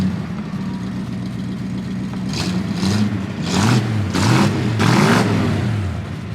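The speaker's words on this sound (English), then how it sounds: "Good sounding dual exhaust." A 1964 Ford Galaxie 500 with dual exhaust, idling low before several blips of the throttle, each rev swelling to a loud burble and dropping back, close by with no talk over it.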